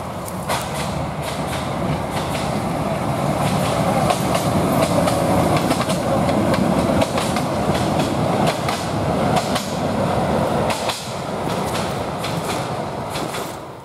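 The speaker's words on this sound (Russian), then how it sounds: "Уже слышу, как подъезжает поездок." A narrow-gauge Haivoron railway train rolls through forest, its steady clickety-clack and wheel rumble loud and close throughout, with no voices.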